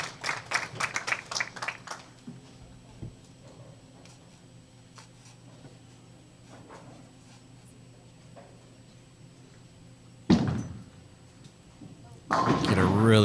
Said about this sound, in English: Let's give these ladies a round of applause as they continue their quest for the title.